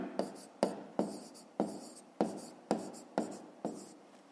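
A pen writes on paper during a fifth-grade math exercise, making about nine quick, rhythmic strokes close up, each a short scratch fading out, with no talk over it.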